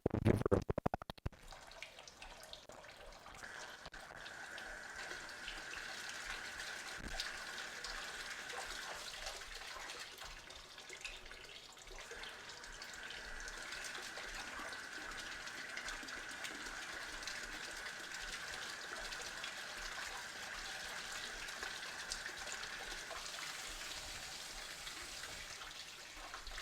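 A garden hose runs water steadily through a 1997 Jeep TJ Wrangler's cooling system during a flush, giving a continuous soft gushing hiss that lasts throughout.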